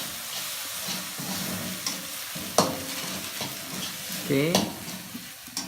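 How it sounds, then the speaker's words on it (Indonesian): Instant noodles (Indomie) stirred in a pan over a small flame, scraping and sizzling with a few sharp utensil clanks against the pan; people talk briefly. "Kita aduk sampai rata."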